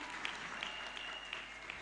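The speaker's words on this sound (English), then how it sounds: "Another round of applause for Lulu" Audience applause for a performer at a women-and-girls-in-cyber event, a brief, fairly faint patter of clapping from a seated crowd with a few sharper claps and a thin tone running through it.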